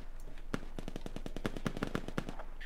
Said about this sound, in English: it's our friendly shooting at us.